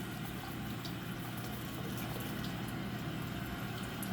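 Steady running tap water pours continuously over dentures as they are rinsed, a constant even hiss of flowing water with no speech.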